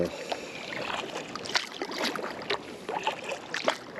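A kayak paddles along the Suwannee River, with irregular splashes and water swishing as the paddle strokes, close and moderately loud against a soft background of moving water and wind.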